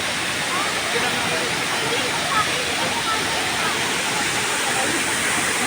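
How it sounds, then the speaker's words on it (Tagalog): Hinulugan Taktak waterfall in Antipolo, a dense steady roar of falling water filling the scene, loud and continuous throughout. "Ayan kagandaan ng falls oh"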